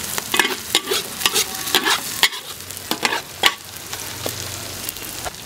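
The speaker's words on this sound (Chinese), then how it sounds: "再把它全部炒起来，放在一起炒均匀。" Green and red chilies are stir-fried in a wok, with sharp, irregular spatula clacks and scrapes over a soft sizzle, close and loud, the stirring repeating in quick bursts.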